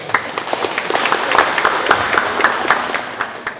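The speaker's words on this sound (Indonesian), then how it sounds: "itu kita beri aplaus" An audience at a university launch event applauding, with dense, steady clapping from many hands that holds loud for several seconds before easing slightly at the end.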